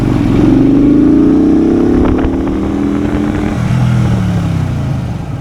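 A Benda Greystone BD250 motorcycle engine revs hard toward 9000 rpm during a test ride, loud and close, its pitch climbing, then easing and rising again with a buzzing roar.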